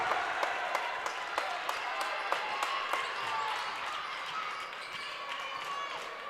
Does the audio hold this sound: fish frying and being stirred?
no